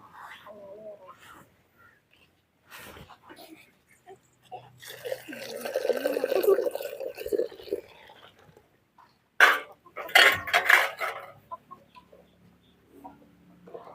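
Coriander coffee pours noisily back and forth between vessels in a few splashing bursts, with people talking quietly in Tamil before and between the pours.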